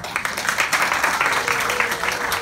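An audience at a Nepali Christian church dance program claps together, a steady, moderately loud wash of many hands with a voice faintly mixed in.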